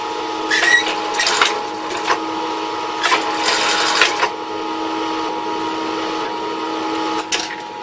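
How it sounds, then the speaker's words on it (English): A sewing machine stitches a seam around the inside edge of a large foam-bodied puppet, running in several short bursts with pauses between and a faint steady hum underneath. "I also like to run a seam around the inside edge"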